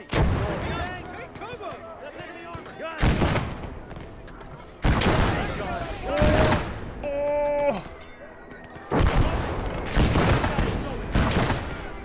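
Tank cannon fire in the WWII game Gates of Hell, aimed at a Panzer III: three heavy booming shots roughly three seconds apart, each with a long rumbling tail, with game sounds between them.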